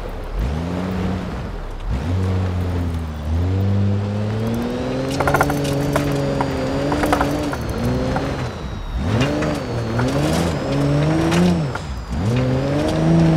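A Mercedes-Benz diesel turbo SUV driving off-road in GTA 5 hums steadily, its engine tone rising and falling repeatedly as it revs and shifts, loud and continuous throughout.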